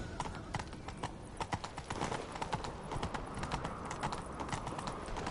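Horse hooves gallop in a steady, rapid clip-clop during a chase on horseback in The Witcher 3: Wild Hunt on PS5, close and continuous over game background sound.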